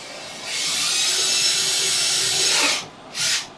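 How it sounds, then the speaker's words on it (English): A power drill bores a hole into a motorcycle saddlebag for a Road Glide, a close, loud whirring grind of about two and a half seconds followed by a short second burst. "So I'm just gonna drill a hole right here."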